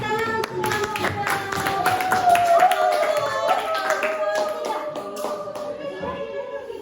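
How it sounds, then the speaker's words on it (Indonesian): A classroom of students claps for a student group, producing a run of scattered, uneven hand claps under children's chatter and a voice. "Oke, tepuk tangan untuk kelompok."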